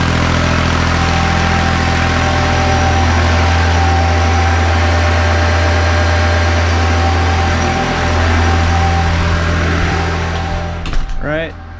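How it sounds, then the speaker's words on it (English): A Kubota B7100 tractor engine drones steadily under heavy load driving a NorthStar PTO generator, with a low humming whine, the pitch shifting slightly before it winds down near the end. "measure the actual max horsepower of the tractor"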